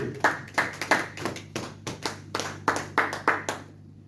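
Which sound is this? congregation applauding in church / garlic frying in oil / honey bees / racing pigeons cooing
congregation applauding in church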